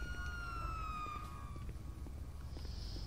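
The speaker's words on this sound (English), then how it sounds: "I'll leave the sirens on." A police car siren in the video game GTA 5 wails at a moderate level over a low rumbling engine, with a brief high whine near the end and no talk.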